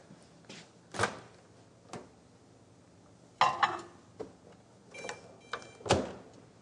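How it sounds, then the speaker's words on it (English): A microwave oven being loaded for a one-minute heating of Scottish oats: scattered knocks and clicks of the door and handling, with a few short electronic beeps, close up and no talk. "And then we'll put it in the microwave for just 1 minute."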